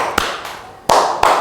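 Hands clap a counted rhythm, three crisp claps heard close and loud, the last two coming in quick succession after a short pause.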